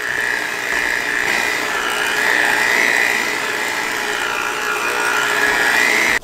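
Electric mixer whirring steadily as it blends sour cream cookie batter in a bowl, a close, continuous high-pitched motor hum ending abruptly.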